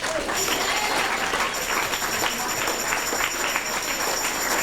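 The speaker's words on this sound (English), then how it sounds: "So please give them a round of applause." Audience applause at a 1995 talent show, following thanks to the people who put up the decorations; a dense, steady wash of clapping held at an even level throughout, moderately distant.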